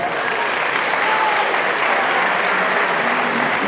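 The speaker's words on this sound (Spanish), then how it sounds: "Y un fortísimo aplauso para Ramón" An audience at a livestock fair award ceremony honoring the cattle breeder of the year applauds steadily, a dense wash of many hands clapping throughout without a pause.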